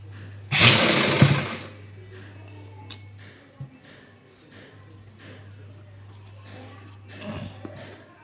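A sewing machine stitching a blouse sleeve runs in one brief burst of about a second, followed by quiet background hum and faint handling sounds.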